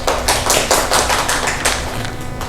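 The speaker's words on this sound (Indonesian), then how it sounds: "Tepuk tangan untuk Mbak Atia." A short burst of applause from a small group in a classroom lesson, close and lively, with steady clapping throughout.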